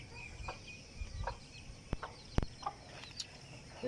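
Several chickens clucking at a moderate distance, scattered short calls over a faint background hum, with a couple of sharper knocks.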